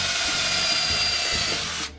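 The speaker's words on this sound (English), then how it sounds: "I'm using a countersink bit with a 1/16 inch drill bit on it" A power drill fitted with a countersink bit and a 1/16 inch drill bit whirs at a steady high pitch close up, then winds down abruptly near the end, with no talking.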